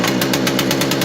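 A Husqvarna 240 chainsaw engine idles at raised revs while warming up, giving a fast, steady, buzzing two-stroke drone that is loud and close, with no talk over it.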